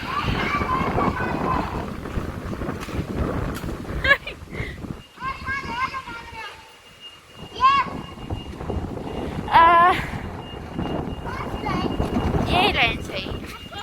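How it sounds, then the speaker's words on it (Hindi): Gusty wind buffets the microphone on a windy day outdoors, rumbling under children's chatter and shouts, with a few louder gusts between voices. "ये कितनी तेज हवा।"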